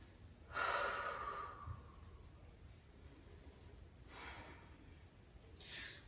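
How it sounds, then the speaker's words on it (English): Deep breathing during a full-body stretching workout: one long, loud exhale first, then two softer breaths a few seconds apart over quiet room hiss. "Deep breaths."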